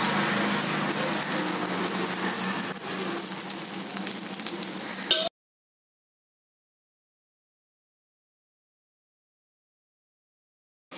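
Kara kuzhi paniyaram frying in oil in a paniyaram pan, a steady close sizzle with faint stirring for about five seconds, then cutting abruptly to silence.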